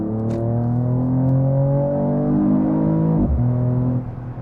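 Mercedes-AMG E53 Cabriolet six-cylinder engine pulling hard under acceleration, a loud, rising drone that climbs in pitch, dips briefly at a gear change, then climbs again.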